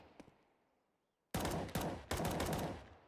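Counter-Strike gunfire: a tiny early report, a second of near silence, then a loud sustained burst of shots with sharp restarts, ending in a one-tap kill. No one talks.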